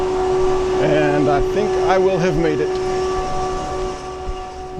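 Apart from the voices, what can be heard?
single-car electric Onoda line train from early 1980s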